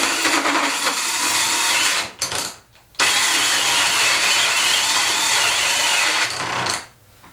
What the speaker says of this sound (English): This is about as big a hole as I'd want to drill with a cordless drill.